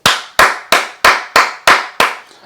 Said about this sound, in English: I'm clapping for the 2-year-old because the 2-year-old will live to tell this story.